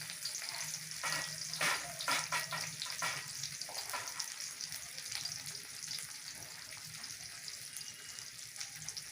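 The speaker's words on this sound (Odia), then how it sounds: "ତେଲ ପକେଇବା, ପିଆଜ ପକେଇବା," Oil and onion frying in a pan, a faint continuous sizzle with a few louder crackling stirs early on, then settling into a steady soft hiss with no talking.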